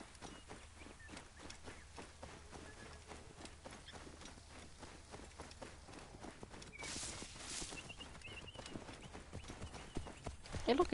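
Donkey hooves clip-clop in a steady walking rhythm through the Assassin's Creed game world, close and moderately loud, with a brief airy burst of game noise midway and the pace building slightly toward the end.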